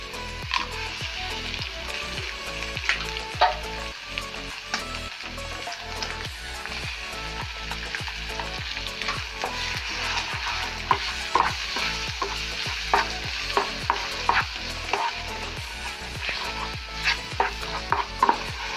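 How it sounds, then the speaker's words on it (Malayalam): Leftover dosa pieces tossed with chili and other spice powders and two beaten eggs sizzle steadily in a pan, with frequent scraping stir strokes from a spatula repeating throughout, close and fairly loud with no talking. "എല്ലാ പൊടികളും ഇടാം പിന്നെ നമ്മൾ ചെയ്യേണ്ടത് രണ്ട് മുട്ട അതിൽ വീത്താം"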